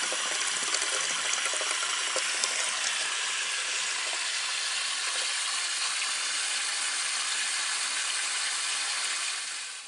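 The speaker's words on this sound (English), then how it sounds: "you can see from this little garden hose, we're letting the water run in a low spot, and it runs right down into the catch basin" Water from a small garden hose running across a low spot in a yard and draining into a catch basin grate, a steady close hiss and trickle lasting throughout with no talk.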